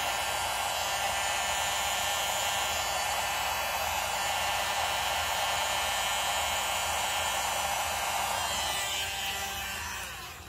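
A hair dryer blows steadily over wet acrylic pour paint to spread it and open up cells, a loud constant whir that holds for about ten seconds and then starts to wind down at the end.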